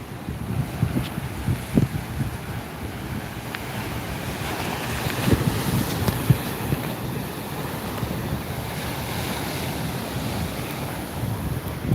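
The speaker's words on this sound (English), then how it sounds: "The waves can be kind of like white noise." Ocean waves roll and wash continuously, a steady broadband surf with wind buffeting the microphone and occasional louder splashes, heard alone without voices.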